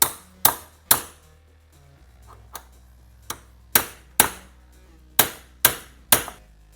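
Sharp metal taps of a tool being struck to drive out a car door hinge pin on a VL Turbo, about nine distinct hits spaced irregularly, close and clear with quiet pauses between.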